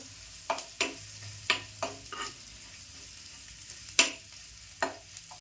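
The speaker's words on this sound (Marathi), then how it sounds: "छान असं परतून घ्यायचं जरासं" Food sizzles softly in a pan while a spoon scrapes and stirs it in short, irregular strokes, close by and quiet.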